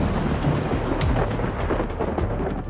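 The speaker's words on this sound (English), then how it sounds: "The rain and the thunder overhead really got pretty intense." Heavy tropical rain pours steadily while a deep roll of thunder rumbles overhead during a storm on a beach holiday in Zante, loud and close with no voices.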